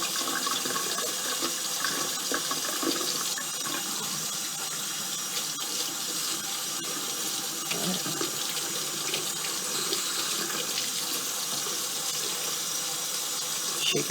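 A paintbrush treated with linseed oil is rinsed under a running tap, producing a steady, close splashing hiss of water that lasts the whole time with no talking.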